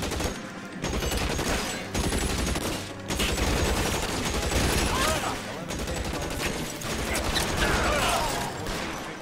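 Rapid gunfire bursts and volleys from L.A. Noire, dense and loud, running almost continuously with a few brief gaps, over a low rumbling game soundscape.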